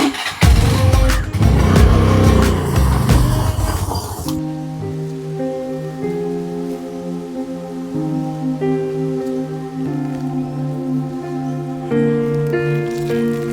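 A vehicle pulls away with a loud, rough engine roar for about four seconds, then drops out as sustained music tones take over for the rest.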